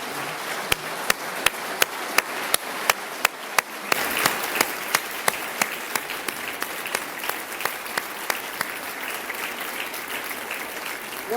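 A large audience at the Ohio governor's 2025 State of the State address applauds a superintendent. A few sharp, evenly spaced claps open it, then a full, sustained round of applause rolls on steadily, heard alone.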